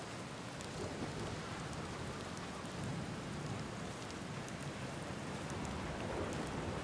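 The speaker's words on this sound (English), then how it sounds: "That storm is scary." A thunderstorm rages in the video game Outer Wilds, with dense, steady rain hissing and pattering on surfaces under a low rumble, loud and continuous throughout without any voices.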